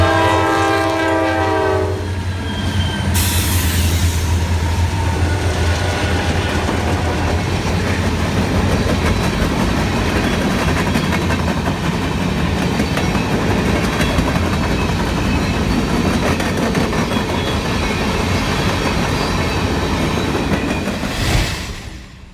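A westbound freight train running from Portland to East Deerfield passes through Shirley, Massachusetts, its horn blaring loudly at the start and again at the end over a continuous, steady roar and rumble of rolling railcars close by.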